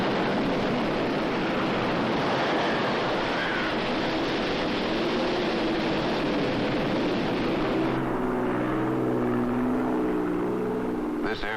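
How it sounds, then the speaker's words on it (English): A propeller airplane carrying a weather crew toward a hurricane drones steadily in flight, a loud, continuous engine roar with a low throbbing hum that shifts near the end. "This airplane is heading toward a hurricane."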